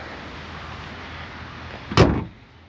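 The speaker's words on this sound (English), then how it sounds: "let's check the quality of the door and the handle" A single sharp car door thump from a 2025 MG ZS Hybrid+ lands near the end over a steady low background hum.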